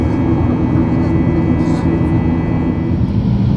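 A steady, loud airliner cabin drone in flight, a broad constant roar with a low engine hum, continuous and unchanging with no talk.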